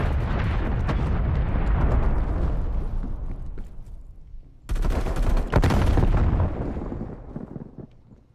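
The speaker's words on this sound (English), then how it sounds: "Artillery inbound." Incoming artillery pounds down in Call of Duty Black Ops Cold War, heavy rumbling blasts and crackling impacts that fade, then a second loud salvo bursts in and rolls away, with no talking.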